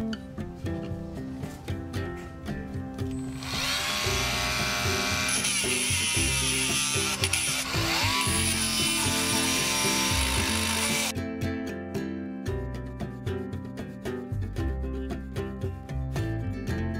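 A power tool grinds and rounds off the edges of metal L brackets for camper van curtain rods, a steady loud whirring burst of about eight seconds with quieter background music before and after.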